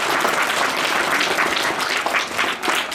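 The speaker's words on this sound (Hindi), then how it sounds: "इनकी जोरदार तालियां बजाएं" Students at a school function applaud loudly, a dense, sustained wash of many hands clapping together with faint crowd murmur underneath, continuous for the full three seconds.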